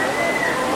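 Steady rain falls in Singapore during the evening, heard from a sheltered spot as a continuous, even hiss of water with no distinct drops or other sounds standing out.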